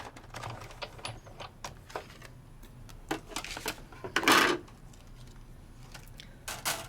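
A Sizzix die-cutting machine cutting through a plate: a run of small clicks and ratcheting taps as it feeds through, then a louder grinding crunch from the machine's pass, with no talk.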